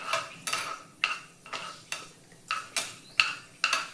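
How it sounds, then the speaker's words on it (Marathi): Fenugreek seeds fry gently on a low flame and are stirred with a spoon in a pan, giving about nine regular scraping strokes roughly half a second apart over a faint sizzle, close and fairly quiet. "मेथ्या एकदम बारीक गॅसवर मेथ्या ह्या तळून घ्यायच्या आहेत"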